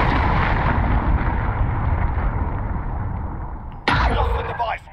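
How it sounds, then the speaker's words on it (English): A cruise missile blast booms in a Call of Duty match, a long roaring rumble that fades slowly before a second sharp impact bursts in near the end. "Enemy cruise missile incoming!"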